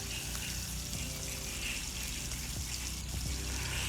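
Water pours steadily from a jug in a continuous, close-up rushing stream for several seconds, with no voices.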